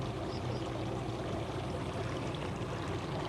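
Fresh water flows over a rock bar in a tidal creek, a steady, faint rushing wash with no breaks and no voices.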